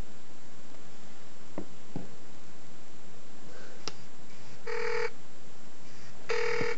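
Two bursts of phone ringing come from a call placed from an iPod Touch 5G, with a few soft taps and clicks heard before them in a quiet room.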